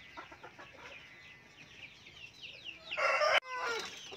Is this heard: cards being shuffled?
no